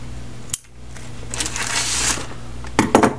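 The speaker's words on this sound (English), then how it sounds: "And I'm going to cut this off." A length of strip material is cut off for a model train station interior, with a sharp snip, a brief scraping rasp, then a few quick close clicks and rustles.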